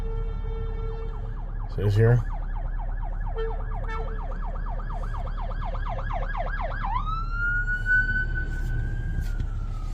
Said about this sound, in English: there's always this ambulance coming up the road